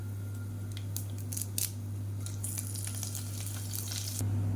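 Constant hiss of hot oil with crackling pops and sputters as whole spices (fennel, cinnamon, cloves, cardamom, black stone flower, star anise) fry, under a steady low hum.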